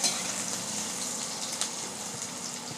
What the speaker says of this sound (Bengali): দিয়ে দেবো আদা রসুন কুচি। দিয়ে এটাকে 1 মিনিট নাড়াচাড়া করে নেব